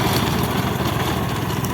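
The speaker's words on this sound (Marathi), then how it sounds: "असा रोटर चालू होते." Farm tractor running a rotavator in a field, a loud, close, steady low engine drone with a rough rumbling churn and no pauses.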